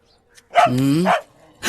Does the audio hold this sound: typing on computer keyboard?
no